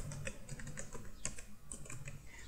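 Rapid keystrokes on a computer keyboard while an HTML registration form is coded, light clicks in an uneven stream, close and steady with no talking.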